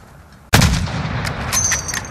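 A single loud, sharp gunshot fired at a target 600 meters away in Call of Duty: Modern Warfare, breaking sudden and close after near silence and trailing off into a rumbling echo with faint clinks.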